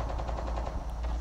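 Rapid gunfire in the mobile shooter game Call of Duty Mobile, heard as a dense rattle of repeated shots from a sniper rifle over a steady low rumble, loud and continuous across a short burst.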